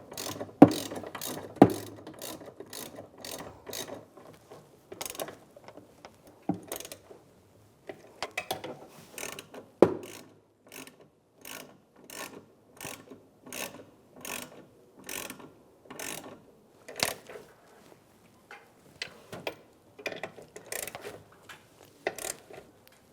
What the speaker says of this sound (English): Now I'm just going to tighten down the 2 bolts on the side.